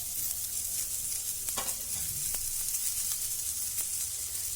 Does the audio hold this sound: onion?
yes